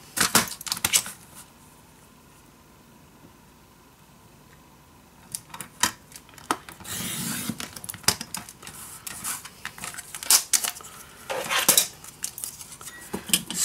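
Scissors snipping paper to size for a scrapbook accordion envelope page: a quiet stretch, then a run of sharp, close clicks and crisp cuts coming in irregular bursts.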